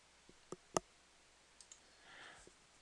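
A computer mouse gives a few sharp, isolated clicks, one louder than the rest, faint and close in an otherwise quiet room.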